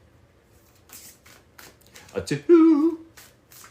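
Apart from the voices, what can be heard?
tarot cards being shuffled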